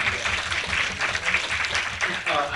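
An audience at a political narratives panel breaks into applause, a moderate wash of clapping hands with a low murmur of voices mixed underneath.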